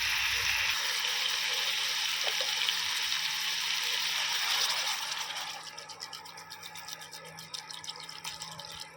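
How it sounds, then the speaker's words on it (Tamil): Water is poured into a pan of hot and spicy chilli flakes chicken gravy, making a steady rushing splash for about five seconds before it settles into softer bubbling and sputtering. "இப்போ இந்த ஸ்டேஜில் நம்ம வந்து கறி முழுகிற அளவுக்கு தண்ணி சேர்த்துக்கலாம்."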